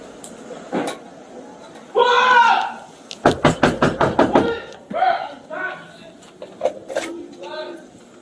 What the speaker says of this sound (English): he knocks on the door